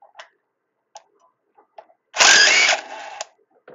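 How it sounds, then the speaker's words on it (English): An impact driver with a 9/16 impact socket backs bolts out of the rear PTO output assembly on an Allis Chalmers 616, a single loud, rattling burst of about a second after a few faint, scattered ticks and clicks. "we have our 9/16 impact socket on our impact driver, and we're going to go ahead and run these two bolts out"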